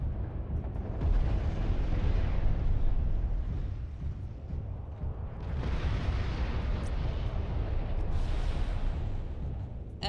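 Rumbling blasts from automated defense turrets during a MechWarrior Living Legends battle, heavy low booms rolling continuously with two louder surges of explosive roar, loud and dense throughout.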